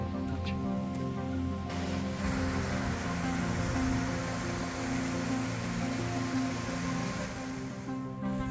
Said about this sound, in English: give you a shot of this waterfall